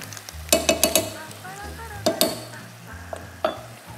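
Tempe stir-fried in a pan as filling for arem-arem, with a steady close sizzle and repeated sharp scrapes and taps of a spatula in quick bursts.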